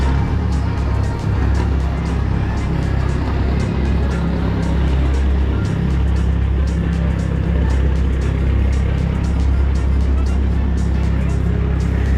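Steady, loud engine roar from trucks racing head to head, a continuous drone holding even throughout with no break.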